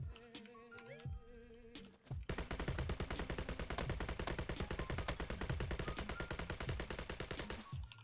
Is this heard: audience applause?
no